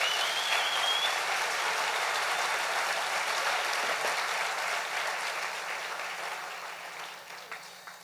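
A church congregation applauds with steady, dense clapping that fills the space, loud at first and slowly fading toward the end, with no speech over it.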